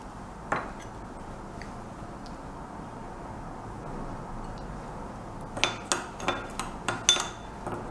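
Parsley salad ingredients, dressed with vinegar, salt, sugar, olive oil and paprika, are mixed together in a bowl, heard as a run of sharp clinks and scrapes of utensil against the bowl, preceded by a single knock and a quiet stretch.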